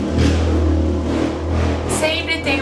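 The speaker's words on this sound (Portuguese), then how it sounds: "Sempre tem uma moto que me persegue." Motorcycle passing by outside, a steady low engine drone and rumble that swells and then recedes, heard indoors under someone talking.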